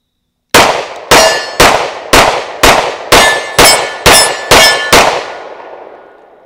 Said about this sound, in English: And we're gonna do a mag dump this time.